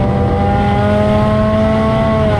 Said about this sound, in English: Stock car's about to roll out right now.